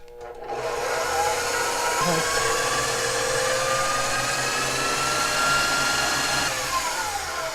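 An electric mixer whips meringue on medium-high speed, a loud, steady motor whine with a whirring hum that starts abruptly and runs continuously to the end.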